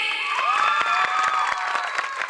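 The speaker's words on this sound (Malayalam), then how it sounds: "ഏതായാലും വലിയ കയ്യടി" Audience at a live comedy skit show claps loudly and steadily, dense sustained applause with scattered cheers filling the whole stretch, no speech over it.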